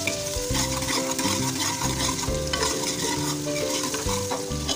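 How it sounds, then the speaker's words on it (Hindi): Onions sauté in ghee for a restaurant-style beef aloo gosht, a constant sizzle broken by stirring scrapes against the pot, all under steady background music. "उसके बाद हम प्याज को हल्का सा सौते कर लेंगे"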